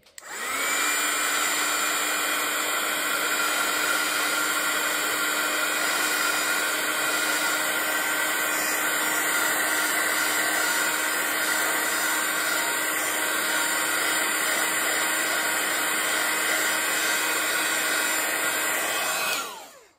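A hair dryer drying watercolor paper blows steadily and loudly for about twenty seconds, a continuous airy whir with a constant motor hum, alone with no voices.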